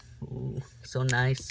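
A dog growls and whines in two short bursts close by, during the opening of a Pokémon Burning Shadows booster box, with a person talking over it.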